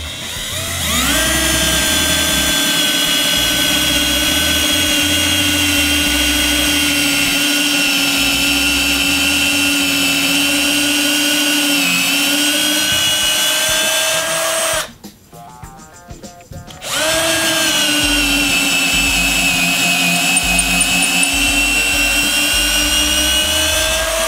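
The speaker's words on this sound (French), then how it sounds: "On va percer là." A Festool TXS 10.8V cordless drill runs at a steady high-pitched whine, held loud and close for about fifteen seconds, cuts out briefly, then spins up again and keeps drilling to the end.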